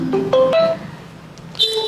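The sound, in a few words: phone ringing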